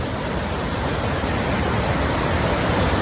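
Overflowing water rushes over Pilar Dam in a steady, dense roar like a waterfall, loud and unbroken throughout with no voices.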